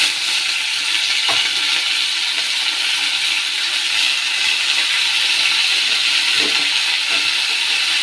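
Spinach greens fry in a pan on a gas stove, giving a steady, close sizzling hiss throughout with a couple of soft clinks from stirring and no voices.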